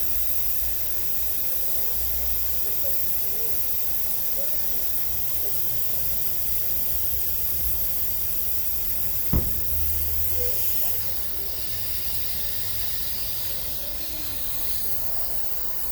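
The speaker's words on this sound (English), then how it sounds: "is we're gonna take all the air out." Air escapes steadily from a Tesla Model X tire through a valve tool, a close continuous hiss lasting throughout with a brief click partway and a slight drop in level near the end.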